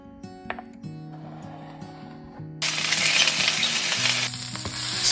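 Minced garlic and onion sizzle in a hot pan while being stirred, the frying hiss swelling loudly partway through over low tonal background music, with scraping stir noises and no talking.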